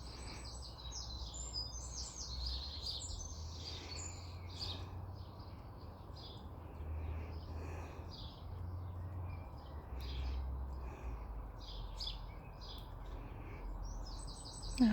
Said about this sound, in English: we'd got this pair of Song Thrushes and I'd not seen her for a while